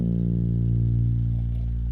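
Behringer Odyssey synthesizer voiced through its classic ARP 2-pole filter, one sustained buzzy, aggressive tone held steady and loud for two seconds with no talk.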